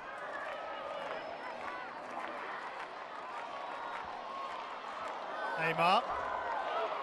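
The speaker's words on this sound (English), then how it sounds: "every touch from an Argentinian player greeted with a big cheer." Crowd cheering fills a women's hockey match between Argentina and Australia, a steady roar with a brief louder swell near the end while a commentator talks over it.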